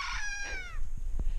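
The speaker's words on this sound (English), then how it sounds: "You might hear in the background Tiny, the rooster." A rooster crows in a farmyard, a short harmonic call at the start of the clip, heard at moderate distance over low outdoor rumble.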